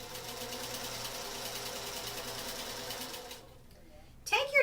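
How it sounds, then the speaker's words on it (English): A sewing machine stitches quilt strip sets with quarter-inch seams, a steady mechanical whirr running for about three and a half seconds before stopping, followed by brief handling noises near the end. "And now we can begin to sew our strip sets"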